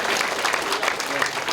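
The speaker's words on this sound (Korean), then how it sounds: "한 번 더 감사하다 박수를 보내주십니다." A church audience at an elders' lecture applauds in steady, dense clapping at moderate volume throughout.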